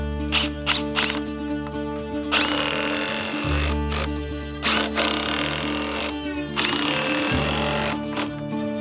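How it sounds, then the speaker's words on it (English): Power drill driving screws into house siding, several loud close whirring bursts of a few seconds each, rising and stopping with brief pauses between them. "I'm just going to screw right into the siding"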